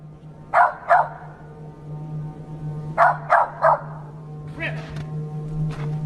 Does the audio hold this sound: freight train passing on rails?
no